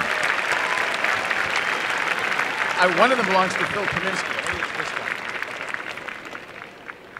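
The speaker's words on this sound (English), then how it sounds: "Let's give a big round of applause to our 2015 graduates in nuclear engineering." A commencement audience at Berkeley Engineering applauds the 2015 nuclear engineering graduates, loud and steady throughout, with a speaker's voice briefly heard over the clapping.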